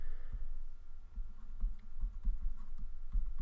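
Pencil or pen scratching out a short handwritten reminder on paper during a math lesson, a steady run of soft close scratches and taps with no talking.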